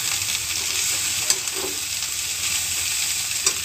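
Cabbage sabzi fries in a pan with a steady, close sizzle and hiss, broken by a couple of faint spatula clicks.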